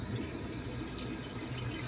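Filtered water from a kitchen tap fed by an under-sink filtration system runs steadily into a container, a continuous close splashing rush with no voices.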